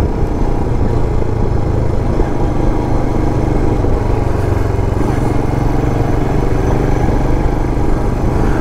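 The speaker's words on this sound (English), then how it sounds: "you have the noise of the thumper just chugging away like a little locomotive" A 2022 Royal Enfield Himalayan single-cylinder engine chugs loud and close in a steady, even thumping rumble while riding, with no talk.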